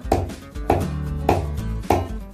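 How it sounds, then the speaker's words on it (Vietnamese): A pestle pounds turmeric in a mortar with four heavy, evenly spaced thuds, each with a short resonant ring, close and loud with no talking. "Bây giờ đang giã nghệ ở nhà nha"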